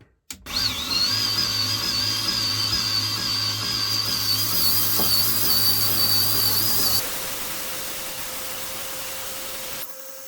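A Grizzly 2x42 belt grinder fitted with a waterfall platen spins up and runs, a loud steady whine and hum that then drops to a lower drone as the motor winds down before cutting out.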